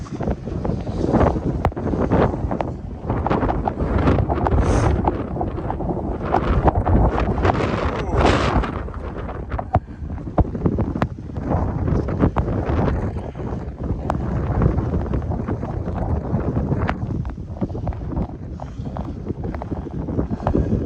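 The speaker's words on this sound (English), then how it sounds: "Bravely flying in the wind." Blizzard wind gusting hard against a microphone while someone walks outdoors on icy, snowy streets in Regina, a continuous loud roaring buffet with rumbling surges and no clear speech.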